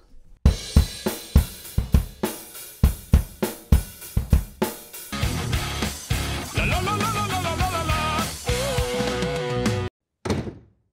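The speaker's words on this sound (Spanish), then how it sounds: "El ritmo del precoro es bien básico." A drum kit plays the pre-chorus beat of a song, steady slow hits building into a dense fill-like section before a sudden stop and a final crash, loud and close.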